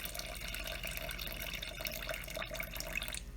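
Water runs steadily from a tap, filling a container for sourdough, a continuous soft hiss heard close and fairly quiet with no talk.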